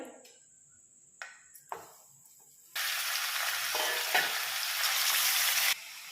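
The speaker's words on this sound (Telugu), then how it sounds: "ముందుగా క్లీన్ చేసి పెట్టుకున్నటువంటి చికెన్ని ఇందులో వేసుకోవాలి" Half a kilo of cleaned chicken drops into hot oil in a kadai, setting off a sudden loud, continuous hissing sizzle after a few quiet clinks, and the sizzle holds steady until it cuts off near the end.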